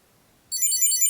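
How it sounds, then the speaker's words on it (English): A Chipolo Bluetooth tracker tucked inside an Ekster smart wallet starts ringing after a moment of silence, giving out a loud, high-pitched, warbling electronic melody that keeps going close up with no voices. "you can press here ring to find, and it should start the sound on your Chipolo"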